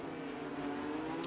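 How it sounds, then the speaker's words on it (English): Formula 1 cars pulling out of the pit lane at the Abu Dhabi circuit in a racing video game, a steady droning engine tone held at a constant pitch, fairly faint and distant, with no talk over it. "I can hear cars leaving the pits."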